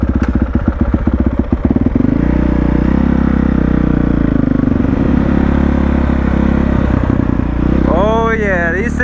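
A dirt bike fitted with new street tires rides on a road in Mexico, its engine loud and close with a steady droning rumble and gear-change surges, a rising whine near the end.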